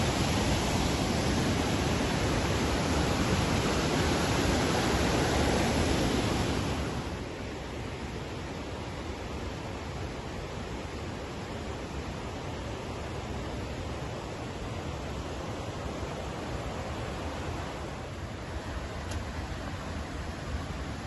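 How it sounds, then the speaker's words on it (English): Bomburu Ella waterfall in Sri Lanka, its water crashing onto rocks below, makes a steady, dense roar. The roar is loudest at first, then settles to a slightly softer constant rush that continues to the end. "Listen to the powerful music of nature as water crashes onto the rocks below."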